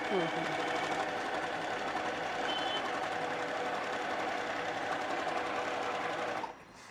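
A sewing machine motor whirs at a steady high speed while winding a bobbin, running continuously before cutting off abruptly near the end.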